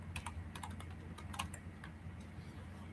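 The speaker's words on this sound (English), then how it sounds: "Then on your terminal, you're going to type code dot." Quiet typing on a computer keyboard as a command is entered in a terminal, a short burst of light key taps over a steady low hum, with no talk.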